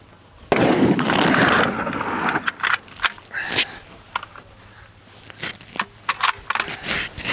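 A CZ-527 rifle fires a single shot without the set trigger, loaded with Wolf Polyformance ammunition: one sharp, loud report near the start with a brief rolling tail, then scattered small clicks and handling noises.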